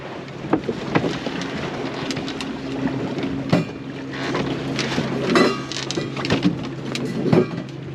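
A 21ft sailing yacht jibes at sea, with steady wind and water rushing along the hull plus scattered knocks and creaks of rigging, all fairly quiet with no talk.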